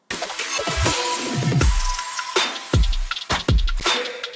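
Future funk drum pattern for a trap remix: punchy kicks with pitch-dropping booms and sharp snare cracks over a chopped, bright sample, loud and alone.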